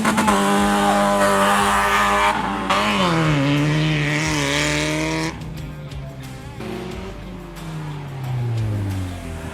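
Autocross race cars launching at the start of a run, loud engines revving up and rising in pitch through the gears, then another car roaring off as the first fades, heard close and continuous.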